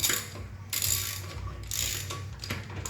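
Wheel lug nuts being tightened during a front brake pad replacement, with a close ratcheting wrench sounding in a few short bursts of clicking over a mechanical hum, and no talking.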